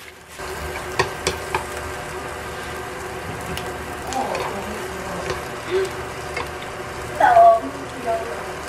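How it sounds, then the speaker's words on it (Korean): Shiitake mushrooms stir-frying in a pan in a home kitchen: a soft, steady sizzle with scattered clinks and scrapes of utensils, growing louder in a brief burst near the end. "표고 볶음을 해볼 건데요"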